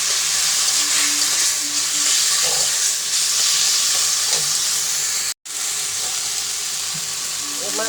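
Hilsa fish head sizzling in a pan with taro greens seasoned with salt and turmeric, a steady close frying hiss that runs throughout and cuts out for a split second near the end.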